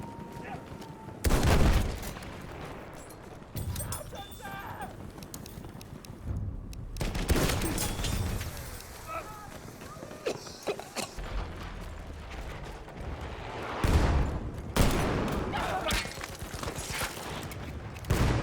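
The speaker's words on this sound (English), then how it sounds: "Machine gun, look alive!" Machine gun fire and explosions in the game Battlefield 1, loud bursts and booms recurring across the scene amid mechanical clatter, with voices talking over the action.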